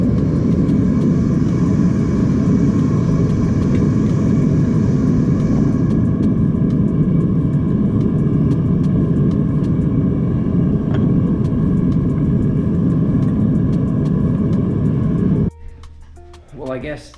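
Gas-fired furnace burner melting copper gives off a loud, steady roaring rumble that runs unbroken for about fifteen seconds, then cuts out abruptly as the gas runs dry, leaving faint noises.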